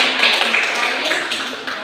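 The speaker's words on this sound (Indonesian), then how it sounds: "tepuk tangan untuk Heru." A classroom group claps for a student during a peer teaching session. The rapid, scattered hand claps come from nearby and fill the short stretch, with voices mixed in.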